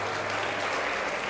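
Church congregation claps in a brief, continuous wash of applause during a worship service, many hands blending into an even roar.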